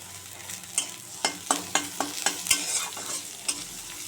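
Garlic is stirred into frying onions in a wok, with a run of sharp, evenly spaced spatula scrapes and knocks over a soft, continuous sizzle of hot oil.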